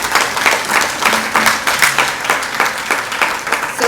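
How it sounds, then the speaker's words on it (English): An audience claps for the speakers at a healthcare conference, a sustained rhythmic round of applause from many hands, moderately loud and even, with no talking over it. "So please a huge round of applause for all the speakers."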